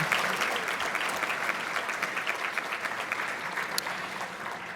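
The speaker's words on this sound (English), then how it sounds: "It's worthy of applause" An audience applauds at a 2019 Massachusetts broadcasters hall of fame ceremony, a dense, even wash of clapping from a sizable crowd that holds steady for nearly five seconds.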